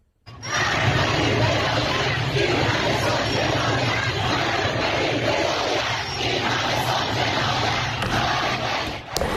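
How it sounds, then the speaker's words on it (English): Large crowd of anti-government protesters in Tehran, a steady, loud roar of many voices that holds continuously from start to finish. "These crowds demanding Iran's supreme leader, Ayatollah Ali Khamenei, step down."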